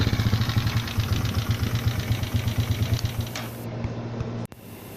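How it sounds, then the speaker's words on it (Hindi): A Honda CG 125 motorcycle with a faulty battery, kick-started and running: a steady, close, pulsing single-cylinder idle thumps evenly for several seconds, then cuts off near the end. "इसको किक से स्टार्ट करते हैं क्योंकि बैटरी इसकी ख़राब है। और आप इसका साउंड भी देख सकते हैं"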